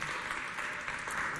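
Audience applause at a Congolese holiday coordination event, a dense steady wash of clapping that fills the whole moment, with voices faintly mixed in.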